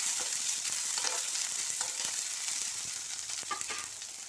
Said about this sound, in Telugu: కొంచెం బాగానే వేగాలి.